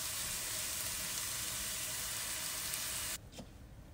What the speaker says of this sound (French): Et je vais les laisser les oignons frire.